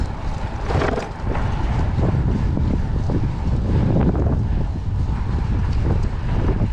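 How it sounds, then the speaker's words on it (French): Wind buffets the microphone while cycling, a continuous loud rush, gusting slightly at times, with no voices. "Il y a un petit peu de vent, mais ça passe."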